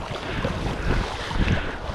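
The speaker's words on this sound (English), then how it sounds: "you get overfalls where all the tide and the wind and everything kind of are forcing the water over some shallow rock" Rough sea overfalls off Lavernock Point, wind-driven water breaking over shallow rock, rush and slap steadily around a paddleboard with heavy buffeting wind noise and no voices.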